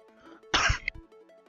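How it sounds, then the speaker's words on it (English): A single harsh cough bursts out close to the mic over soft background game music, loud and brief, followed by a short rasp before the music carries on. "I just had a bit of a cough there"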